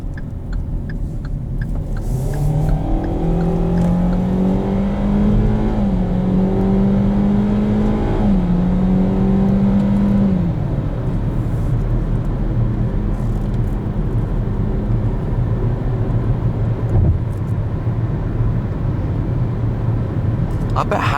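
Base-model Kia Seltos cruising at highway speed, a steady interior drone of road and engine noise with a gear-change whine rising early on, while a person talks throughout.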